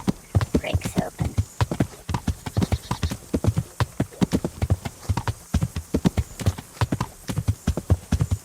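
Horse hooves in the medieval video game Kingdom Come: Deliverance: a steady, brisk clip-clop rhythm of close, crisp hoofbeats that continues throughout, with a faint voice murmuring underneath.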